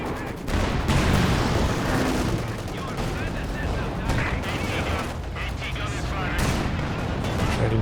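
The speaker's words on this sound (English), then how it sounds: "Trading shots over the centre" Dense, continuous exchanges of gunfire and booming shots fill a Company of Heroes 2 battle over the centre of the map, loud and sustained throughout.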